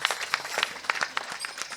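Audience clapping in welcome for Keshavji Maharaj at a Marathi kirtan, a steady patter of many hands with sharp individual claps standing out, fairly close and continuous throughout.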